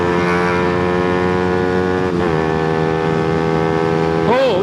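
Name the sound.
Suzuki GSX-R125 motorcycle accelerating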